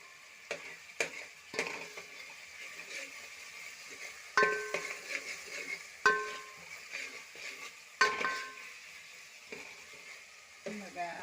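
Curry leaves dropped into hot oil for a spiced cauliflower curry, sputtering and crackling in sharp bursts with scattered pops and clinks of a pan, moderately close in a quiet kitchen.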